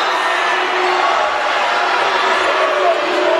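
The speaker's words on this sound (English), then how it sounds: "You hear the boos from the crowd behind us." Basketball crowd booing a traveling call in a college men's game, a loud, steady, sustained jeer from the stands that holds throughout with no one speaking over it.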